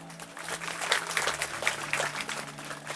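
A short burst of audience applause at a dharma talk, moderately loud scattered clapping from a gathered crowd, with a faint low hum underneath.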